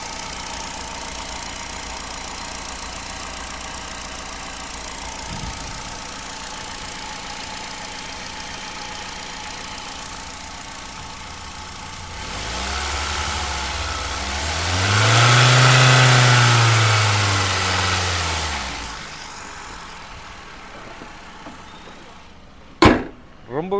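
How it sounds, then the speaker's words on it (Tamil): A Hyundai i10 automatic's engine idles with a mic held close: a steady, even hum that swells into a brief rev midway and settles back, followed by a few sharp clicks at the end. "இப்போ வண்டியோட இன்ஜின் நாய்ஸ் நான் உங்களுக்கு மைக்கை பக்கத்தில் வச்சு எப்படி இருக்குன்றதை காட்டுறேன்"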